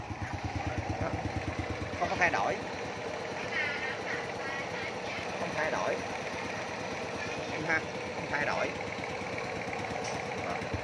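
A 1997 Honda Dream Thai motorcycle with an original engine idles with a steady, smooth, even putter that holds constant throughout, while someone talks over it in Vietnamese.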